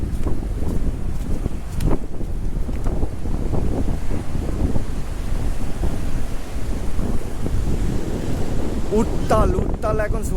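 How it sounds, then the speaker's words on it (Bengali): Rough sea at Digha in stormy weather, with heavy wind and rain: a constant roaring wash of surf and gusty wind buffeting the microphone, loud and unbroken throughout. "উত্তাল এখন সমুদ্র যাকে বলে, তো সমুদ্র জল ভেপে উঠছে আস্তে আস্তে, ভালো জোরে বৃষ্টি আরম্ভ হয়ে গেছে।"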